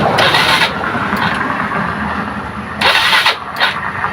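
A vehicle engine cranks and catches after its battery is charged, then settles into a steady, loud, close idle with brief revving surges and no talk.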